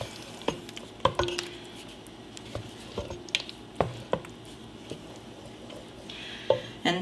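Turkey sausage or kielbasa stirred into a warm pot, giving soft squishy stirring sounds and scattered sharp spoon knocks against the pot over a low background.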